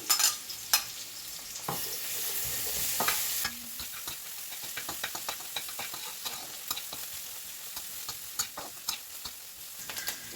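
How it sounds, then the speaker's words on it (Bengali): Chopped ginger and garlic fry in a pan with a steady broadband sizzle, a louder burst for the first few seconds as they go in, then frequent sharp clicks of stirring against the pan. "আদা রসুনটা ভাজা হয়ে গেছে"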